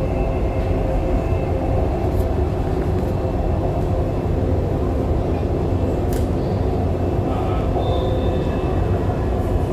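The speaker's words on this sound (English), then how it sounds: "Dubai Metro Green line." Dubai Metro Green Line train running, a steady loud rumble and rail roar throughout with faint squeals and clicks, heard from inside the carriage without talk.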